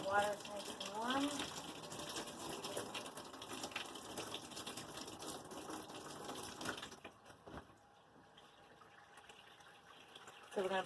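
Warm water gushes into a tub for a rinse bath for washed wool fleece, a rushing pour with rattling mechanical chatter that stops abruptly partway through, leaving quieter dripping and faint room noise, and people talk briefly near the start.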